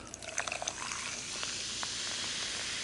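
Pepsi Peach soda poured into a container, close up: a soft liquid pour with trickling and fizzing hiss that settles into a steady carbonated sizzle.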